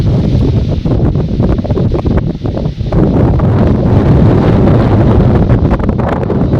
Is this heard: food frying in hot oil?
no